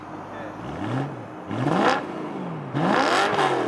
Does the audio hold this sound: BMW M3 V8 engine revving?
yes